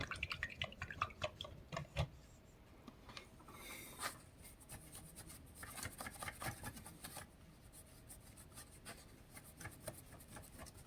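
A paint brush is swished and tapped in a small pot of water while painting miniatures, giving faint, intermittent drips, splashes and soft scrubbing close by.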